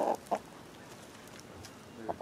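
A hen gives a few short, soft clucks, two at the start and one near the end, with quiet gaps between.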